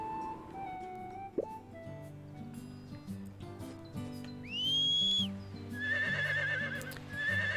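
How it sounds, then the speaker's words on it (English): A bright rising whistle call in the farming video game Harvest Moon: The Winds of Anthos summons a horse, followed by a horse whinny, light hoof clip-clop and cheerful game music underneath. "I whistled for the horse by pushing down on the directional pad, and that brought the horse to me"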